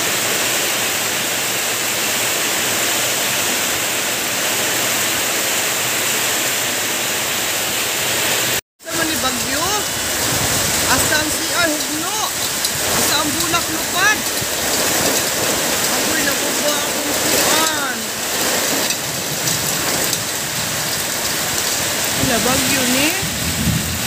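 Heavy typhoon rain with strong wind pours down steadily, a dense loud wash that cuts out briefly for a moment before resuming, with voices talking now and then over the downpour.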